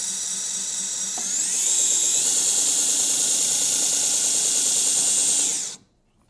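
A belt grinder runs steadily with a high, whining motor tone that rises slightly in pitch early on, holds constant, then cuts off abruptly near the end.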